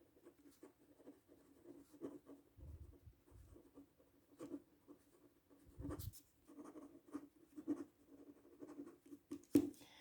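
A pencil crayon scratches across paper in short strokes while a Van Gogh copy is annotated, with soft, close scribbling and small taps of the tip repeating through the whole span.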